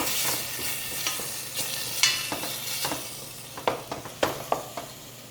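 Curry ingredients sizzle and fry in a hot pan while a utensil stirs them, giving a steady close hiss broken by repeated scraping, clattering strokes, with no talking.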